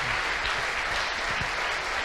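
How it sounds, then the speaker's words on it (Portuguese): A church congregation applauds during a worship service, steady dense clapping filling a short stretch with a low murmur beneath. "Você pode aplaudir ao Senhor nessa noite"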